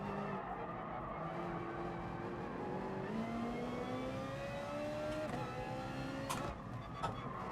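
A Ferrari's tyres skidding in the video game GT Sport, a long rising squeal as the rear slides, engine tone climbing underneath and a sharp knock near the end.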